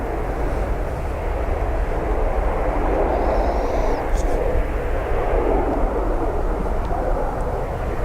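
An airliner landing nose-high on Dublin Airport's north runway gives a steady, loud broadband engine roar that holds for the whole stretch, with people talking over it.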